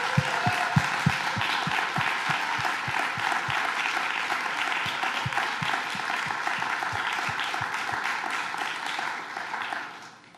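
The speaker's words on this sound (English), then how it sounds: "I'd like you all to raise your hands and applaud the organizing team who've put this on." Sustained audience applause for the organizing team after a tech keynote, dense clapping with a few sharp nearby claps, steady before tapering off at the end.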